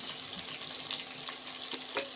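Chopped onions sizzle steadily in a little hot oil for an Indian paneer tadka, a continuous close hiss with soft stirring scrapes and occasional crackles throughout.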